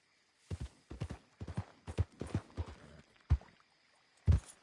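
Horse hooves clip-clopping in the video game Red Dead Redemption 2: a loose run of about eight muffled hoof thuds at an uneven trot pace, close and moderately loud, with no talk over them.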